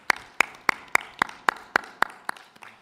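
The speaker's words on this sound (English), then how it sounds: "a big round of applause" About ten crisp, evenly spaced claps from an audience thanking panelists at a business summit, sharp distinct slaps with quiet gaps and no talking.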